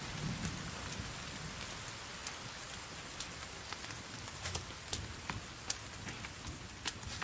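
Steady rain patters down throughout in a video game, with crisp drop hits and a low rumble of distant thunder beneath, no voices.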